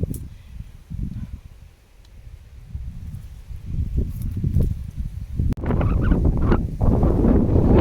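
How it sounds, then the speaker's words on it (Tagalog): Strong wind on the mountain top of Kam Kui Shek Teng, Sai Kung, buffets the microphone in gusts, roaring louder toward the end with heavy low rumbling. "Malakas ang hangin."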